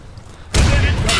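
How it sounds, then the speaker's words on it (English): A grenade blast in the tactical shooter Insurgency (2014) lands as a sudden loud, broadband boom after a quiet moment, with a sustained roar of debris and gunfire-like crackle trailing through the rest. "Grenade out!"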